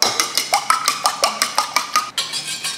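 Two chicken eggs beaten in a bowl with a utensil, a brisk regular series of about fifteen clinking taps against the bowl, close and clear with no voices.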